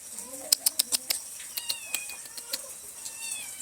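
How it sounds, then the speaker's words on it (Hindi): A cat meowing at a home in Uttarakhand, with a few faint meows under a quick series of sharp clicks and taps and some chirping birds, close by. "बहुत तेज है ये बिल्ली, किसी से नहीं डरती है"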